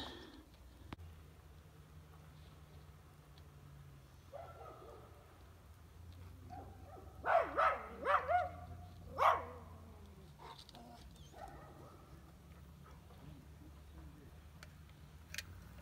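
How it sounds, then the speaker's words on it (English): A few sharp dog barks in a quick cluster midway through, moderately near, over a steady low engine-like hum and faint background noise. "Ignore the dogs, they're barking at everything."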